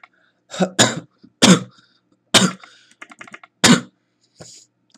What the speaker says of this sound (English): Sorry, I've been coughing recently.